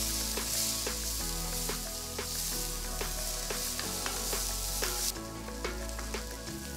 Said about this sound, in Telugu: ఇందులో చిన్నగా తరిగిన 2 పెద్ద ఉల్లిపాయలు వేసి వేయించాలి.